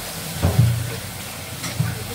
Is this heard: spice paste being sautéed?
yes